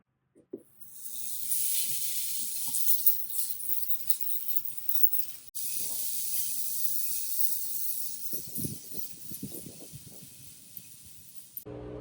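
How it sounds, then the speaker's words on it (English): Running water hisses steadily as a turquoise bracelet is rinsed and scrubbed under a tap, with a brief break midway, soft clinks and scrubbing rustles near the end, and no talk. "We're just going to rinse this off and give it a little bit of a scrub."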